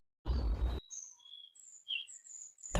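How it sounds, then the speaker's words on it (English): Robin singing its cheery morning song near a garden fence at dawn, a series of clear whistled phrases in short bursts after a brief noisy rustle, fairly close and alone. "Close to the garden fence, a robin began its rhythmic,"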